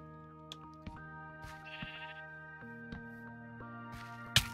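A Minecraft sheep gives a faint, short bleat against quiet, steady game background tones, with scattered soft clicks and one sharp sound at the end.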